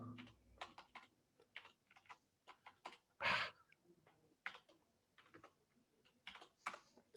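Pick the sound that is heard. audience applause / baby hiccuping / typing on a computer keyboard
typing on a computer keyboard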